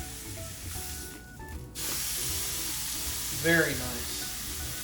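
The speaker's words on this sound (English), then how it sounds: "Alright, now we're ready to sear the sides." A ribeye steak seared on its sides in a hot pan gives a steady sizzle and frying hiss throughout, swelling briefly near the end, while a voice speaks a short comment over it.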